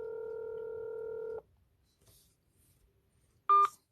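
A telephone being dialed: a steady electronic tone holds for over a second and cuts off, followed by quiet, then one short, loud keypad beep near the end.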